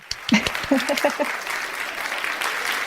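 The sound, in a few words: applause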